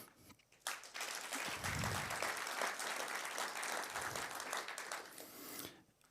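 A conference audience breaks into applause after a short quiet moment, many hands clapping in a dense, sustained wash that tapers off near the end, with faint crowd murmur beneath.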